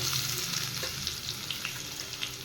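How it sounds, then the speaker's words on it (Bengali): Four cloves of chopped garlic frying in oil in a wok give a close, steady crackling sizzle with small popping bursts throughout, and no voices. "প্রথমে রসুনটা একটু ভেজে নিলাম"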